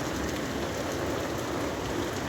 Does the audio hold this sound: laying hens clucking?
no